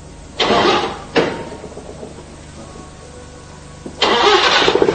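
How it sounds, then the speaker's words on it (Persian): A 1980s Paykan car engine cranks and catches twice in quick succession, then settles into a low idle before revving up again, close by. "موتور رو روشن بکن"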